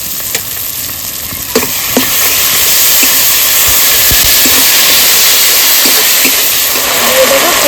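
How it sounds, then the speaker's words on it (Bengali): Onion, tomato and spice paste with ginger, garlic, cumin, coriander and chilli fries in oil for a katla fish curry, giving a steady loud sizzle with scattered stirring clicks and spatula scrapes throughout. "তো মশলা কষানো হয়ে গেছে তেল ছেড়ে দিয়েছে"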